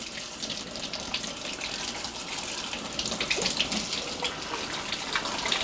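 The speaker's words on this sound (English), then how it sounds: "just while I've got the tap running" A household tap runs steadily into a sink while parts of a Dyson DC24 corded vacuum cleaner are rinsed, a continuous splashing hiss at moderate level with no voices.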